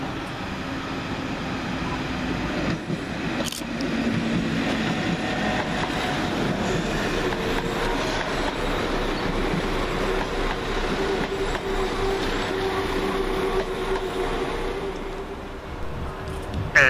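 A sick Class 172 diesel unit from Stratford-upon-Avon rolls in to terminate at Stourbridge Junction station: a steady rumbling drone of engine and wheels with faint squeals, moderately close and continuous, with no talking.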